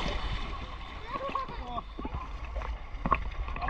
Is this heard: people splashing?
yes